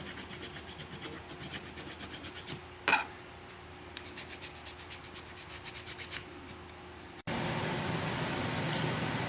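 A file rasps in short, rhythmic strokes, rounding the corners of a new nut on an Eastman mandolin. The filing is close and steady over a faint background hum, then a steady broadband noise takes over near the end.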